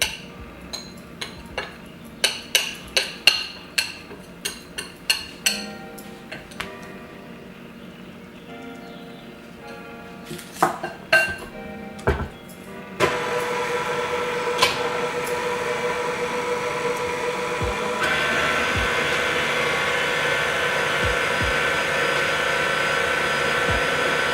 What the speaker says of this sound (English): Mixing it very low so it doesn't go everywhere and spatters all over you, the sugar